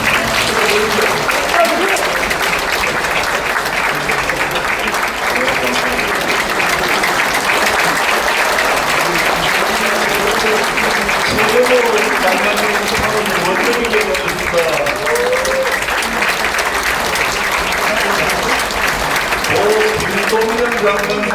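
Sustained audience applause fills a book launch event at the National Assembly Museum, loud dense clapping from a large indoor crowd that continues unbroken throughout.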